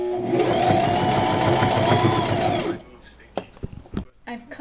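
A sewing machine stitches fabric for a drawstring cape, whirring loudly and steadily for nearly three seconds before stopping, followed by scattered handling clicks and rustles up close.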